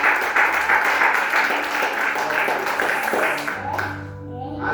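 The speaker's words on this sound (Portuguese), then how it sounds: "Aplauda o Senhor, querido." A church congregation applauds in dense, steady clapping that fills the room and fades out toward the end, with voices mixed underneath.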